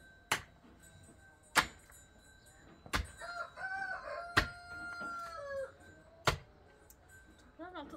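A rooster crows at close range, its call rising and falling over several seconds. Loud sharp knocks break in at intervals, like earth being struck, and the setting sounds like outdoor yard or building-site work.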